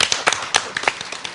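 A small audience at a book concert in Mokpo clapping, a short burst of close, loud, irregular handclaps.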